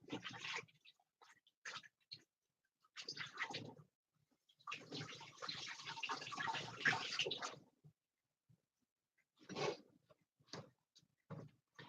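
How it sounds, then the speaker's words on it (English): Hands being washed under a running tap in a home kitchen, heard as soft, close splashing that comes in uneven bursts of a second or two, with a longer continuous pour in the middle and quiet gaps between. "So I'll wash my hands."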